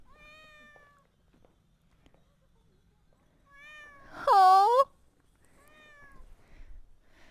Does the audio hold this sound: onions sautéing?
no